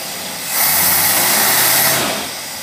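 An engine running on a Motorcraft single-barrel carburetor revs up from idle, holds a higher steady roar for over a second, then settles back down, loud and close with no voices.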